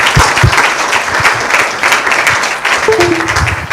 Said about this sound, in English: Yeah, maybe some applause.